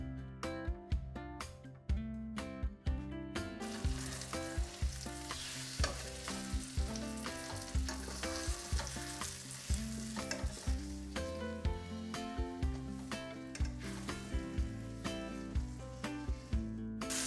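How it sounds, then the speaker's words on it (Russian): Chicken fillet sizzles steadily as it fries in a pan over medium heat, a continuous close crackle with light clatter of stirring, heard beneath steady background music. "Обжариваю куриное филе с двух сторон до золотистой корочки на среднем огне."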